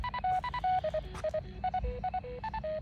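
A hidden radio transmitter beacon gives a rapid series of short electronic tones in a quick, uneven pattern, each a clean pitched chirp, fairly faint but growing louder.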